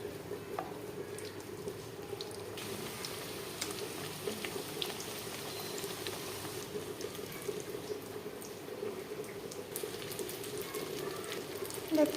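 Rolled naan dough fries in hot oil, a faint, continuous bubbling crackle with light spattering heard close up, steady throughout and without talk.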